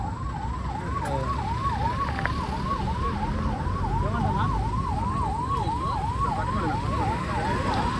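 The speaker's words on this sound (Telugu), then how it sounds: "అంబులెన్స్ వచ్చింది" An ambulance siren wails continuously in a fast, rising-and-falling pattern over steady traffic rumble, fairly close and loud throughout.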